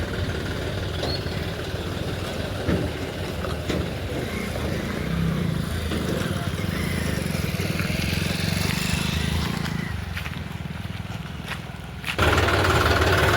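A tractor engine runs steadily nearby while being loaded onto a boat for flood-relief work, a continuous low rumble that stays fairly loud throughout, dipping briefly before a sharper rise near the end.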